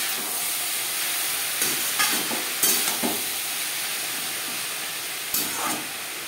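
Yard-long beans and bottle gourd peel fry with salt in a pan, a loud continuous hissing sizzle marked by several scattered clinks and scrapes of a stirring spatula, close up and without talk.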